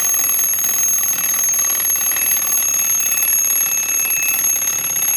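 A mechanical alarm clock bell rings continuously and loudly, a rapid metallic clatter that never pauses.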